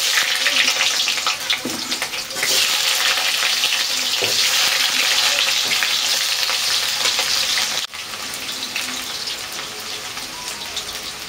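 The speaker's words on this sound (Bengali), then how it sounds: "সর্ষের তেলে আলুগুলো ভেজে নেবে" Potatoes fry in mustard oil with a loud, steady sizzle that runs throughout, broken by occasional stirring clatter and a brief dip near the end.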